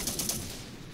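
Gunfire in the video game Syrian Warfare, a quick burst of three rapid shots followed by a fading rumble, fairly faint and heard alone.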